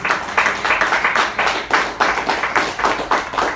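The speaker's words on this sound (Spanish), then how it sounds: "Dale palmas al Señor." A church congregation claps in unison during a service, loud rhythmic beats roughly three per second, steady and close, with no speech over them.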